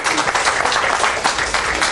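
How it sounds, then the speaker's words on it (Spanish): An audience at a conversatorio tribute event gives a strong round of applause, dense and continuous clapping from many hands, fairly loud and close, with no speech over it. "¿por qué no le damos un aplauso fuerte a estos expositores"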